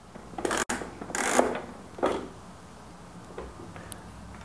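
The plastic bean hopper of an Encore or Virtuoso conical burr coffee grinder is twisted counterclockwise and lifted off. There are a few close, sharp plastic clicks and scrapes in short bursts, then quieter handling noises.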